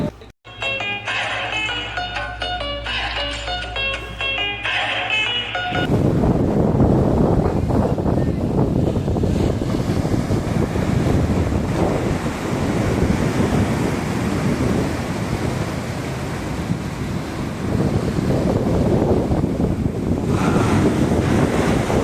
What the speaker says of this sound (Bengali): দেখতেই পাচ্ছ তোমরা ঢেউয়ের কি আওয়াজ।